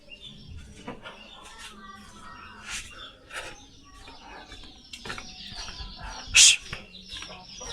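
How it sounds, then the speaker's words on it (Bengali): A hen clucks in short scattered calls at close range among other bird chirps, with one sharper, louder squawk near the end. "আরে ভাই, এই মুরগিটা আবার"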